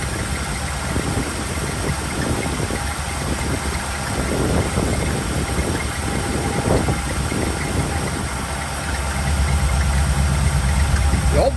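A 1964 Chevy C10 pickup off the road for seven years, its engine running and idling with a steady, even mid-pitched drone and faint mechanical rattle, getting slightly louder toward the end.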